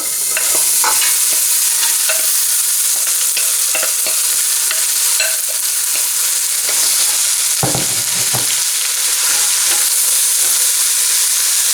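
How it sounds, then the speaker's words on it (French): Onions frying in hot olive oil in a pan for onion soup, a loud, steady close-up sizzle with scattered crackles and occasional scraping as they are stirred, no voices. "Je vais faire revenir mes oignons quand l'huile est assez chaude."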